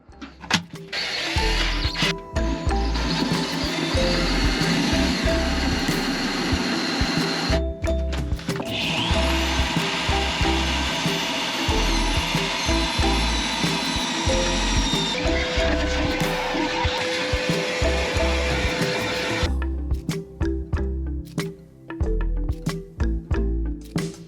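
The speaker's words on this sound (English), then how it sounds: "I'm going to drill the 1/2-inch holes" A power drill boring 1/2-inch holes in a boat deck whirs steadily for a long stretch, pausing briefly between bursts, loud and close with a grinding edge.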